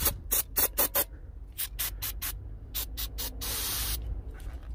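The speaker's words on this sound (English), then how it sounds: "I'll get a little bit of little brake cleaner in there and then I'll re-grease them." Brake cleaner sprayed onto rear brake parts of a 2018+ Honda Accord, several short hissing bursts followed by a longer spray, close and fairly loud with no speech.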